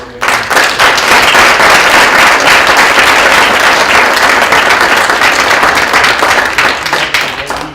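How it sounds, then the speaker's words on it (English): Loud, dense audience applause filling the room for several seconds, many people clapping together after a presentation, steady throughout before tapering slightly at the end. "let's give a round of applause for these two"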